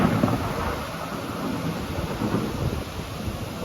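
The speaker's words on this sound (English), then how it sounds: "Right, this is definitely a full-on thunderstorm now." Full thunderstorm in Mallorca, Spain, with heavy rain and rumbling thunder blending into a dense, loud roar of broadband noise that swells and eases slightly, no voices.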